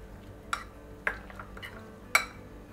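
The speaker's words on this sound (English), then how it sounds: "So now we are going to mix the whole thing." Sausage filling for a spicy Mexican roll gets mixed in a bowl, with a utensil clinking quietly against the dish three times over faint background hiss.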